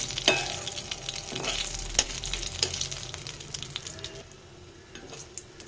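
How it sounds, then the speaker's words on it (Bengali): Green and dried chillies fry in hot oil in a pan, a steady sizzle with a few stirring scrapes and clicks, close and continuous with no talk. "মরিচটা ভাজা ভাজা হয়ে গিয়েছে"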